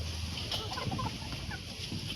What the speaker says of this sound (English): there's also three white chickens there